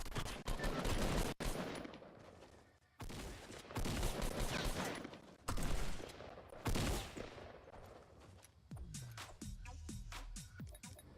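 Bursts of rapid gunfire from a Fortnite Battle Royale match crackle loudly and almost without pause, with sharp single shots and longer volleys broken by a few brief gaps, and no voices.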